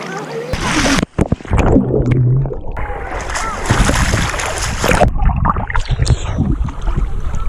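Splashing and sloshing of warm turquoise sea water in Governador Celso Ramos, Brazil, as a person gets in beside a boat, with gusts of wind on the microphone and a voice heard briefly over the watery noise.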